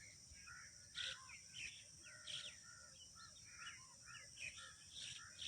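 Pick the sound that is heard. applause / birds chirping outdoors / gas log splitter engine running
birds chirping outdoors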